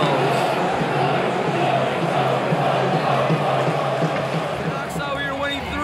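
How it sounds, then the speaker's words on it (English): A hockey arena crowd during a game keeps up a dense, steady roar of cheering and chatter for several seconds, with faint whoops rising out of the wash. "I'll just show you the crowd now."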